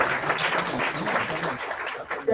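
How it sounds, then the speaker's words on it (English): Audience applause for the Deputy Ambassador of Ghana at a Bank of Ghana roundtable discussion, a steady dense wash of clapping that continues throughout the clip without any break. "Another round of applause for Her Excellency"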